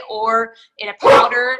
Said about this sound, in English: Whoop, that's my dog.